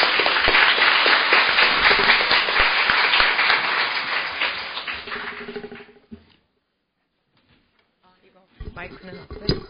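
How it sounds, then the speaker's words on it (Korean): An audience at a panel discussion on school dietitians' working conditions claps loudly to welcome a presenter, a dense burst that fades out around six seconds, followed by a silent gap and then a few brief handling sounds. "큰 박수로 맞이해 주시기 바랍니다."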